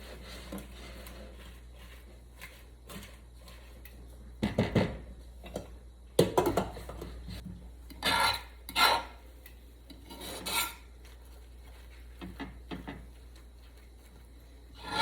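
A spatula scrapes against a hot pan while a melt sandwich cooks in butter: short, rasping strokes come in irregular bursts over a quiet background, fairly close and moderately loud.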